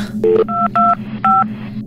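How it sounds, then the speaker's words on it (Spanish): Telephone keypad dialing tones: four short, loud electronic beeps pressed in quick succession over a faint low hum, with no voices. "Completamente nervioso tomó el teléfono e intentó marcar."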